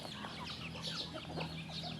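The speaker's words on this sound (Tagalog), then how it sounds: "sinalubong na po tayo ng ating mga alagang manok" Pet chickens cluck softly close by, with several short overlapping clucks and calls over a low steady hum, fairly quiet and without any talking.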